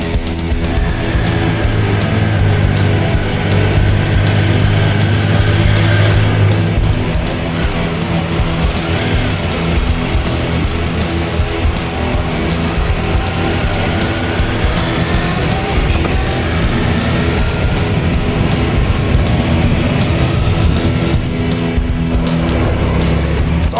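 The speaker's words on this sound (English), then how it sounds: "It's a 3-cylinder engine, which is fairly unique to the bike world." A Triumph Sprint GT three-cylinder motorcycle engine runs with a steady, loud, continuous drone, engine tone shifting slightly as the bike rides on, with no talk over it.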